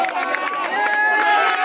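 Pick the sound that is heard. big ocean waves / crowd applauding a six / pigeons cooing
crowd applauding a six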